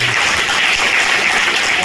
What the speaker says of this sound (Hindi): श्री वशिष्ठ हाजरा जी, श्री राणा जी और श्री साहू जी, इनकी जोरदार ताली।